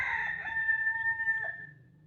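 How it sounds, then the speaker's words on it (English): A rooster in the Gambia crows once in a long, clear, sustained cry that holds steady and then breaks off near the end, fairly close and with no talk over it. "chicken crazy back there, man."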